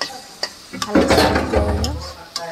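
Fish curry masala stirred and sizzling in a pan for a desi-style machli curry, with close scraping and clinking of a spoon against the pan and a soft frying hiss, under a brief spoken phrase.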